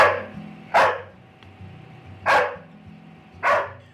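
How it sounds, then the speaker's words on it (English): A police K-9 dog barks three times in sharp, loud bursts spaced about a second and a half apart, over a low steady background hum. "But when the dog finds that person, they'll give a distinct alert. They will sit and bark."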